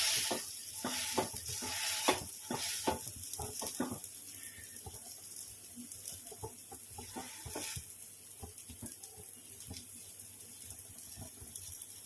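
A mixed vegetable pancake shallow frying in a pan, giving a faint, steady sizzle broken by frequent irregular taps and presses of a spatula, close by and without speech.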